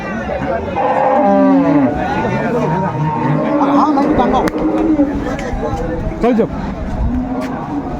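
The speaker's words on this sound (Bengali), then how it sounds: "গৃহস্থর গরু এটি" A dairy cow mooing among the crowd at a village cattle market in Dinajpur, with several drawn-out, fairly close lowing calls heard over steady crowd babble as people bargain over the price.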